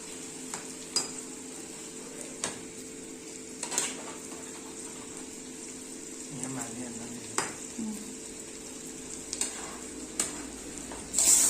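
Fried fish simmering in water in a pan, a low steady bubbling with faint occasional clinks of utensils and quiet background noise.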